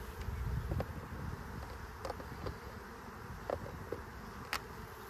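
Honey bees drone in a soft, steady buzz around an open hive frame outdoors, faint and continuous, with occasional light clicks and knocks from handling the equipment and no voices.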